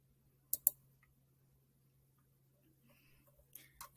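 Computer mouse clicks while working in the Canva design tool: a quick pair of sharp clicks early on, then quiet, then two softer clicks near the end, over a faint steady hum.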